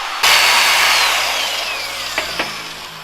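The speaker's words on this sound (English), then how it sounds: "Alright, we'll grind this." A power tool grinds metal for a custom fender in a shop, one loud continuous whine starting abruptly and slowly fading, with two short sharp bursts near the end.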